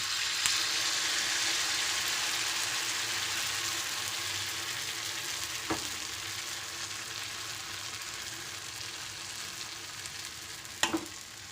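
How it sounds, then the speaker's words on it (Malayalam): Batter sizzles in hot oil for steamed vattayappam, a Kerala rice cake. The hiss is steady and close, broken by two brief sharp clinks, with no talk. "ആ എണ്ണ ചൂടായി കഴിഞ്ഞാൽ ഉടനെ നമ്മൾ തയ്യാറാക്കി വെച്ചിരുന്ന ആ ബാറ്റർ ഒരു ഇതിലേക്ക് ഒഴിച്ചു കൊടുക്കാം."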